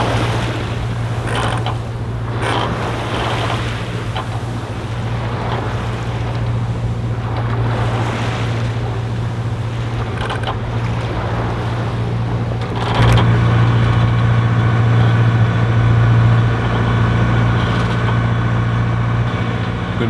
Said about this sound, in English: The noise on a sailboat can sometimes be quite annoying, particularly when we run on their engine.